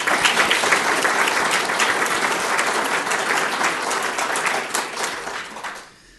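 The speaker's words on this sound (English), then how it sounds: "everybody in the room should offer a hand of applause to Barbara" A room of meeting attendees gives a sustained burst of dense clapping for the organizer Barbara, loud and steady throughout before tapering off at the very end, with no talking over it.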